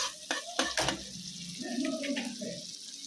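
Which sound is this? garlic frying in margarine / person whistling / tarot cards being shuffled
garlic frying in margarine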